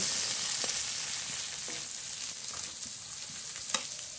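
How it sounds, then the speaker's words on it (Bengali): Onions frying lightly in a pan for a Bengali fish curry, a steady even sizzle with soft occasional scrapes of stirring, close and alone with no talk. "পেঁয়াজ বেশি ভাজবো না, একটু হালকা করে নেড়ে নেব"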